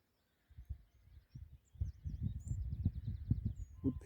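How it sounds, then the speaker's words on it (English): A wood pigeon calls at sunrise, low repeated cooing phrases in a rhythmic pattern, fairly close, while faint higher birdsong twitters in the background of the dawn chorus. "that might be a wood pigeon"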